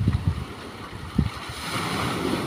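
Big sea waves wash and roll around a fishing boat out on open water, a steady rushing surge with wind buffeting the microphone and a few low thumps of water against the hull.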